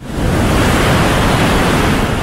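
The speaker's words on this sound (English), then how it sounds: "the ocean waves crashing on the shore there, nice and calming" Ocean waves crash steadily on the shore, a loud, continuous broadband roar of surf with no pauses and no voices.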